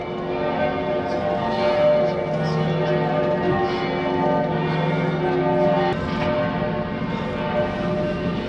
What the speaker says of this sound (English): This is 12 o'clock bells from the cathedral.